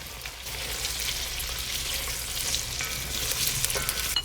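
Tortelli pasta frying in brown butter, a steady dense sizzle and crackle that holds close and even throughout.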